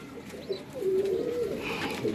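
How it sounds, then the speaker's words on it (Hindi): A Magar pigeon gives a single drawn-out low coo close up, rising and wavering briefly against quiet background noise. "ये प्योर का मगर कबूतर है।"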